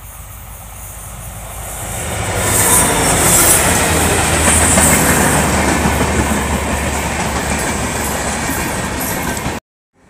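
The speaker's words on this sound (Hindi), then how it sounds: "जीरो तैंतीस जीरो आठ गंगा सतलज किसान एक्सप्रेस जो आ रही है तो आप देख सकते हैं" The Ganga Sutlej Kisan Express passing on rails, a loud sustained rumble of wheels with rhythmic clickety-clack and high metallic squeal, building after a couple of seconds and cutting off abruptly near the end.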